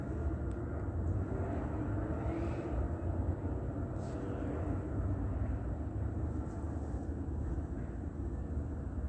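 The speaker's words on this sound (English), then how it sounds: "It's helicopter activity" A helicopter flies overhead, heard as a steady low rumbling engine drone that stays constant at moderate distance, with no talking.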